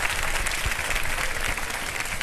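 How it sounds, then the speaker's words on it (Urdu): A studio audience on a television show breaks into steady, full applause throughout this brief moment, with no speech over it. "بھرپور تالیوں کی صورت میں ان کا شکریہ ادا کر دیجئے"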